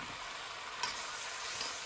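Crispy noodles with spring onions and toasted sesame oil tossed in a hot pan, giving a steady, bright sizzle throughout with one brief scrape or clatter near the middle.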